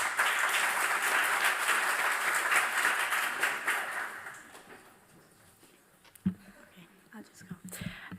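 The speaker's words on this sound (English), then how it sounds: "Welcome them with an applause." A room full of people applauds for several seconds, the clapping fading out into quiet murmurs and a few scattered sounds.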